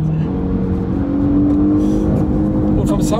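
Porsche Panamera with a 462 hp engine accelerating, heard from inside the cabin as a loud, steady engine drone that climbs slowly in pitch, with people talking over it.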